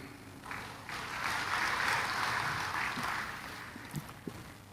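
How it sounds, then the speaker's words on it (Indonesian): Audience applause at an Indonesian government speech on a free nutritious meals program: a steady wash of clapping swells and fades over several seconds at moderate distance, tapering into scattered claps. "Jangan terlalu cepat tepuk tangan."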